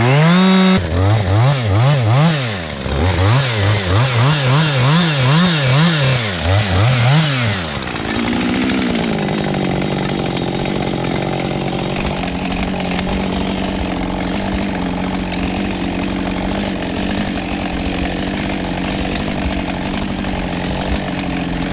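A chainsaw cuts branches while a trail is trimmed. The engine rises and falls in rapid revving pulses for about eight seconds, then settles into a steady, loud, close drone.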